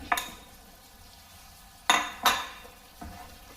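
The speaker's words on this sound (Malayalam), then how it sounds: "അതിലേക്ക് നമ്മൾ വള വറുത്ത് വെച്ചിരിക്കുന്ന മീൻ ചേർക്കാം" Fried fish goes into a pot of boiling onion curry gravy. The steady simmer is punctuated by four sharp metallic clinks and scrapes of a spoon against the pan.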